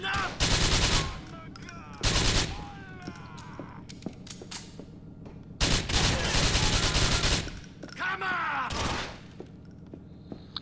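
Gunfire in Grand Theft Auto IV: several loud bursts of rapid automatic fire in separate volleys, some lasting about a second and others longer, with gaps of quieter game sound between them.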